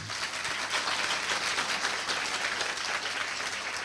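Applause from a church congregation at a Hindi-language worship service praising God, steady dense clapping filling the whole stretch without speech.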